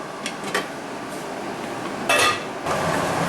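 A large metal saucepan lid set down over a wok of simmering chilli crab, giving a brief bright clank near the two-second mark after a few light earlier clinks, with a quiet bubbling bed beneath and no talk.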